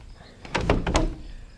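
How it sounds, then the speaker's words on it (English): A sliding glass door being repaired rolls along its track in a brief burst of a few rumbling, clattering pulses, close by and moderately loud, with quiet before and after. "that'll allow the door to slide all the way over into the corner"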